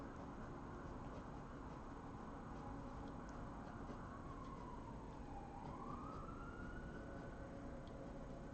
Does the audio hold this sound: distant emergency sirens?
yes